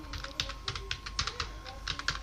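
Close, rapid keyboard typing on a computer while entering details into billing software, a quick irregular run of clacking keystrokes with a faint steady hum behind.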